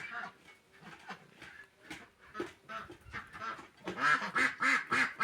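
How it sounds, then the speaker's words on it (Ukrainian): Ducks quack repeatedly in loud, rhythmic bursts, some near and some farther off, while people chat nearby in the background. "О, закрик оцих качок."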